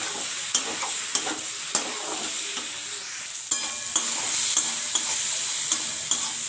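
Cabbage is stir-fried with coriander leaves and sugar in a pan, giving a steady sizzle broken by sharp, regular spatula knocks against the pan.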